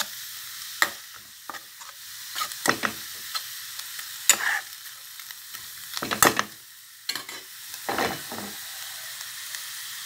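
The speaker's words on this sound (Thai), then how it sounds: "ลวนหมูให้สุกก่อน" Minced pork is stir-fried in a dry pan without oil, making repeated scraping, clattering stirs in irregular bursts over a soft steady sizzle, close and fairly loud throughout.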